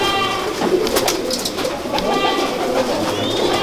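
Record-holding Dollar pigeons coo softly and repeatedly nearby, with several birds calling over one another and a faint background hum. No one speaks.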